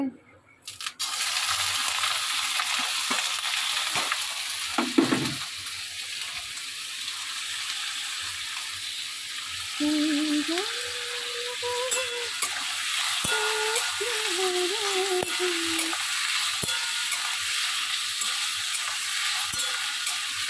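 Potatoes fry in oil in a wok, a constant close sizzle running throughout, with a sharp knock early on and faint voice-like tones drifting in partway through.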